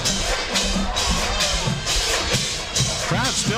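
Crowd murmur fills a high school football stadium before a Kecoughtan Warriors vs. Phoebus Phantoms game, a dense continuous din of many distant voices with a commentator talking over it.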